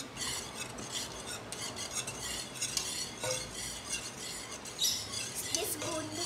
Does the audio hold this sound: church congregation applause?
no